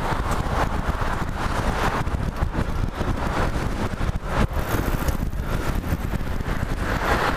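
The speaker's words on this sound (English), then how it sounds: "Wind's a bit too much for me." Wind buffeting a GoPro microphone while cycling through downtown Kobe, Japan, a loud, constant roaring rush that never lets up and swamps the surrounding street sound.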